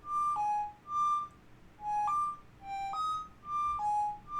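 A music-box-style synth patch, Analog Falado, plays sparse bell-like notes that slide between two pitches, repeating in short phrases with gaps between, clean and alone.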